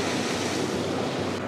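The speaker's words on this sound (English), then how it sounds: "So we're starting to get some really big waves now" Big ocean waves crash and surge as the tide comes in at a coastal canyon, a loud continuous roar of surf and spray with wind buffeting the microphone.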